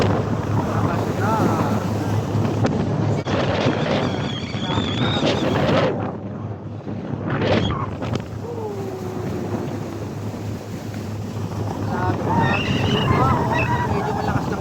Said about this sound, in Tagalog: Medyo malakas lang yung alon guys.